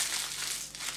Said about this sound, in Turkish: kırıştırırsak çok daha rahat bir şekilde yağlı kağıdımıza yerleştirebiliriz